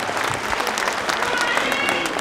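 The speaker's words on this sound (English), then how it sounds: "Big round of applause, ladies and gentlemen," Audience at a Samoan fa'afafine pageant in Auckland claps steadily as a runner-up is announced, a dense, continuous round of applause with a few cheers mixed in and no speech over it.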